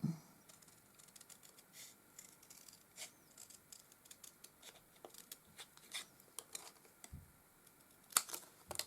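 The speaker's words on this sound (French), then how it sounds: "Je vais découper." Scissors cutting a gel press printed card, a string of faint, crisp snips and clicks spaced irregularly in a quiet room, with a slightly louder crunch near the end.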